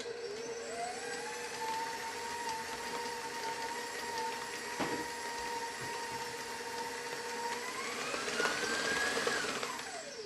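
An electric stand mixer with a paddle blends chocolate cake batter with bananas, a steady mid-pitched whirring motor that rises in pitch near the end before winding down.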